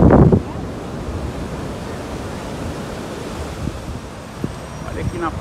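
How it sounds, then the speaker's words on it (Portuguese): Surf rolling onto Boa Viagem beach in Recife, a steady wash of waves under strong wind buffeting the microphone, a louder gust at the start, then a constant roar. "Olha aqui na praia de Boa Viagem."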